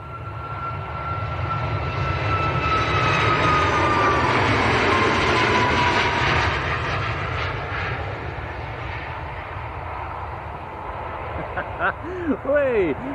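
TUI Boeing 737 Max 8 jet departing Manchester Airport for Zakynthos, a loud continuous engine roar that swells and then slowly fades, with brief talk near the end.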